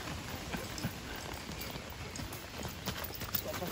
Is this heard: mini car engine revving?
no